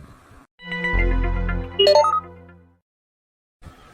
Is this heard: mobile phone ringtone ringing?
yes